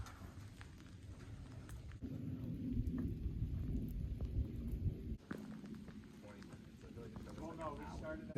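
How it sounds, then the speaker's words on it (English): Rain falls during a winter hike in New Hampshire, a continuous broadband hiss and patter that swells a little partway through and keeps going at a fairly soft, even level. "It's not raining as much anymore."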